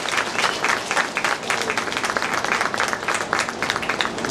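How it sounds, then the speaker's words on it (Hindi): An audience at a lamp-lighting ceremony claps steadily in sustained, dense applause, fairly close and loud throughout, with no one speaking over it. "आप लोग तालियों की गड़गड़ाहट के साथ"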